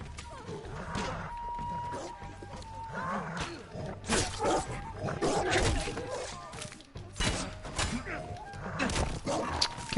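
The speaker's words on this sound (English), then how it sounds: "Get this fucking dog off me." In the video game Ghost of Tsushima, an attacking dog snarls and growls amid chaotic combat noise, with sharp bursts, scuffles and clashing sounds spread over ten seconds at close, loud range.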